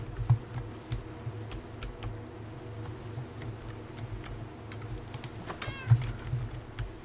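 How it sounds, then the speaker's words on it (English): A cat meows twice in Minecraft, brief mewing calls at the start and near the end, heard amid steady keyboard typing and clicking with a low background hum. "They're talkative, them cats are."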